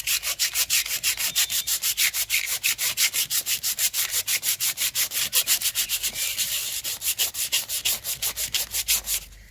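Painted leather and wood furniture finished in chalk paint is sanded by hand in fast, even back-and-forth strokes, a close, regular rasping rhythm with no talk.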